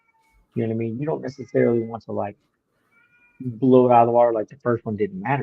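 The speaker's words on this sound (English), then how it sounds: "that's my cat" A pet cat meows close by in drawn-out, wavering cries, in two clusters separated by a pause, mixed in with a person talking.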